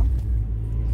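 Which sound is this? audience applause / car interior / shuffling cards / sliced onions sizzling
car interior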